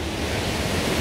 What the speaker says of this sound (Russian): Сейчас мы будем заходить в это море.